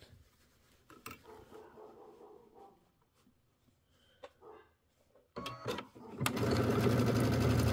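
A sewing machine stitches down binding on a small quilt. Light handling clicks and rustles come first, then a loud, steady, close motor whir with a rapid needle chatter.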